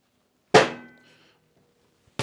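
A 1¼ inch wrench clanks sharply against the rear axle of a Harley-Davidson Sportster as it is broken free, a single loud metallic hit with a ringing decay, followed by silence and another brief knock at the end.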